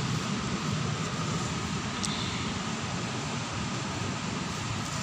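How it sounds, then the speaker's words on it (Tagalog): Strong current of water rushing after heavy rain, a steady loud broadband roar filling the whole clip without pause, close by and with no talk over it. "Ang lakas ng agos niya mga idol"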